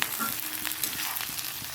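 Onion slices drop into a pan of frying potatoes, giving a soft close-up crackle and sizzle of hot oil with small scraping touches, steady and fairly quiet throughout a short moment without voices.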